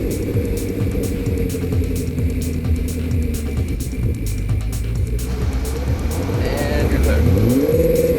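A Lotus Esprit engine revs steadily with throttle blips as the car pulls away, the growl rising in pitch near the end; someone speaks briefly over the engine noise.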